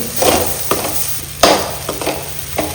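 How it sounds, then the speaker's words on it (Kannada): Egg masala sukka frying in a pan, cooked until dry and crumbly, with a steady close sizzle broken by several sharp scraping stirs, no one talking. "ಇನ್ನೂ ಇದು ಪುಡಿ ಪುಡಿ ಆಗ್ಬೇಕು ಅಷ್ಟು ಇದನ್ನು ಫ್ರೈ ಮಾಡಬೇಕು"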